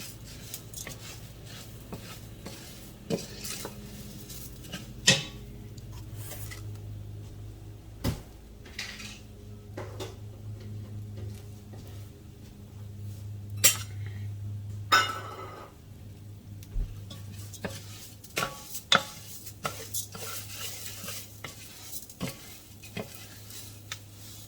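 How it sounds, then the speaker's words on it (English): Rice grains being stirred in oil in a pan for arancini, with quiet scraping and soft sizzling plus occasional sharp clinks of a utensil against the pan, faint and close, no talking. "You want to stir it so you get all of those rice granules coated in this oil that's in here"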